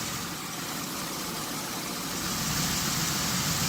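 A salvage-auction Pontiac Aztek sits idling, its engine giving a steady, quiet, even hum with no revving, heard alone throughout.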